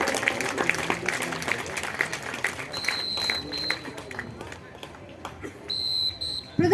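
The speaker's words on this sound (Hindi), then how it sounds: "जोरदार तालियों से हौसला अफजाई करते रहे जाबाज कमांडो।" A stadium crowd claps for a commando drill display at a Republic Day event, a broad wash of applause under a voice, with high whistle-like tones joining partway and again near the end.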